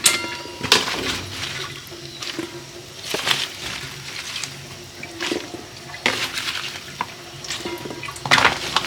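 Water running and splashing as freshly washed new potatoes drain into a bowl in a home kitchen: a steady wet trickle broken by several louder sloshing bursts at irregular intervals, close and fairly loud.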